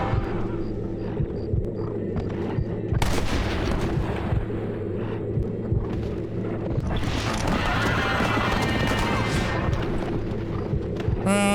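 In the western video game Red Dead Redemption, a horse gallops with steady, continuous hoofbeats and loud whinnies, while booming gunfire-like shots are layered through the scene.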